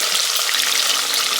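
Salmon pan-searing in hot oil gives a steady, close, hissing sizzle with fine crackle throughout, and no voices.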